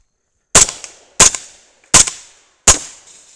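Four loud, sharp rifle shots from a 300 Blackout fired at an even pace about two-thirds of a second apart, each crack followed by a short echoing decay and no talking in between.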